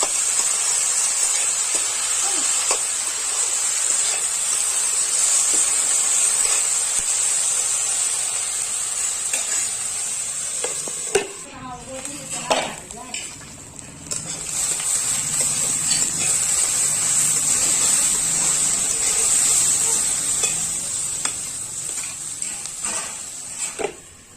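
Ivy gourd (kundru) fries in a hot pan for a Chhattisgarhi vegetable dish, a loud, steady sizzling hiss that briefly softens midway before returning at full strength.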